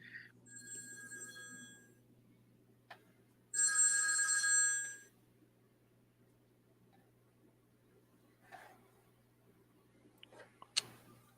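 A mobile phone rings with bright electronic tones in two bursts, the second louder and about a second long, followed by faint clicks and taps in an otherwise quiet room.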